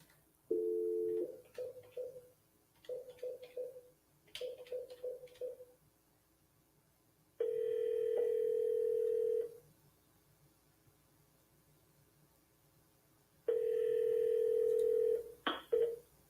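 Telephone call to a voicemail box that has not been set up: quiet keypad tones in short clusters, then two long steady ringback tones with a pause between, ending in a brief click.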